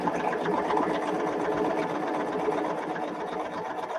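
A sewing machine stitches quilt blocks in a continuous fast rhythmic whir, close and steady throughout.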